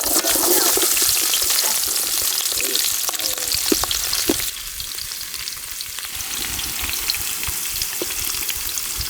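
Steady, loud sizzling of chopped onions frying in sesame oil, with occasional stirring clicks and a brief drop in intensity partway through.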